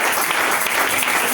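A church congregation applauding, a dense, steady wash of many hands clapping together close by.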